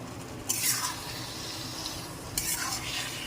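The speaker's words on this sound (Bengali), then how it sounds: "ম্যারিনেট করা মটনটা দিয়ে দিচ্ছি" Marinated mutton added to frying masala and stirred in the pan, a soft steady sizzle with two louder bursts of hiss and spoon scraping, no voices.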